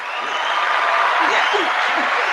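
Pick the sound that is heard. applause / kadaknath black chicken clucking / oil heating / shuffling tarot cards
applause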